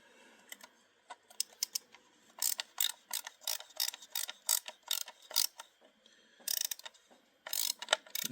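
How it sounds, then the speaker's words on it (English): Mechanical clicking and ratcheting while a screw is tightened on an International Harvester 9900i truck map light mount: rapid bursts of sharp clicks in uneven clusters, close and moderately loud, with no talking. "And tighten this screw."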